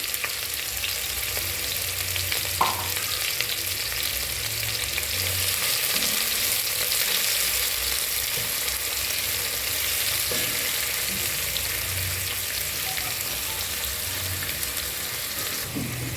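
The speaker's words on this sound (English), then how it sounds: "I am going to be adding the white onions that I had chopped earlier, and I'm going to allow them to cook until they're brown" Chopped white onions fry in hot oil for a stew with a steady, close, dense sizzle and occasional stirring scrapes, continuous throughout with no talking.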